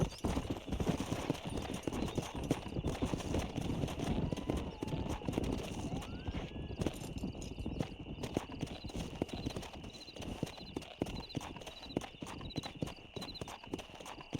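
Horse hooves clip-clop steadily while herding in Red Dead Redemption, a continuous trotting rhythm mixed with ambient game sound and an occasional whinny.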